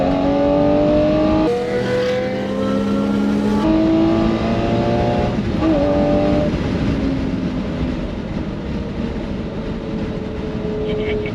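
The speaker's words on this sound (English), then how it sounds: "naturally aspirated V12 in the rear, and have a listen to this thing." Naturally aspirated rear-mounted V12 of a manual Lamborghini Murciélago LP640 revs up and down, its engine note rising and falling in steady bands, loud and close throughout with road noise underneath.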